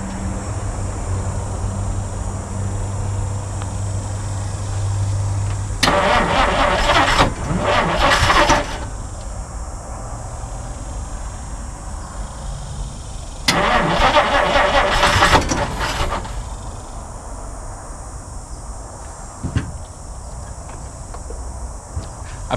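A 1950 Dodge Meadowbrook straight-six cranks in two separate bursts, each about two to three seconds long, with a few cylinders catching unevenly. Between the bursts there is a quiet pause and a faint low idle-like hum.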